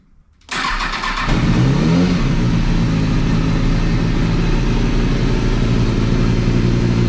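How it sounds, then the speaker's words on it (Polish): After a brief quiet moment, a 2006 Kawasaki ZX-6R 636 motorcycle engine cranks and catches, then settles into a loud, steady idle that continues to the end. "Motocykl ładnie pali."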